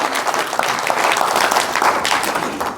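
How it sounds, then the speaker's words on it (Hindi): A crowd applauds at a village ceremony in Haryana honoring a folk singer and film actor, a dense burst of clapping filling the space at steady volume for a few seconds. "एक बार तालियां बजाकर उनका स्वागत करें।"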